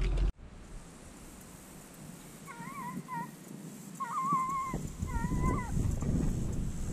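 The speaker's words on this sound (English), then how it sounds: "I got two dogs in the box." Hunting hounds shut in a dog box during a deer hunt whimper and whine in a few short, thin, high bursts over a rustling outdoor background.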